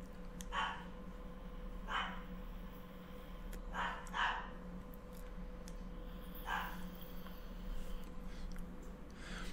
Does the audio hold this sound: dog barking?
yes